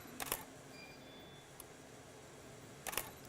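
A single-lens reflex camera shutter fires in a bracketed sequence indoors, two sharp mechanical clacks about three seconds apart with a faint click between them, close and distinct against a quiet room.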